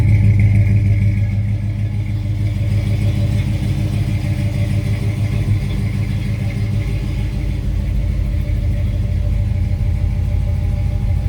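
A 454 V8 in a 1955 Chevrolet 210 idles steadily with a deep rumble and throaty burble through 2.5-inch Flowmaster exhaust, loud and close, with no voices.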